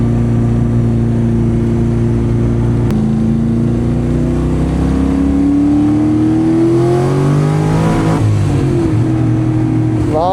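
A C6 Corvette Z06 on a track day revs hard and close, its loud engine note rising and falling in pitch as the wheels spin, with a brief sweep of gear change and throttle near the end.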